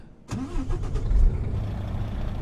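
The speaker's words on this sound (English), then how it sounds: "let's check out the engine. We will start her up." A Kenworth W900 truck engine in American Truck Simulator cranks and fires up, then settles into a deep, steady rumbling idle that swells briefly before holding level.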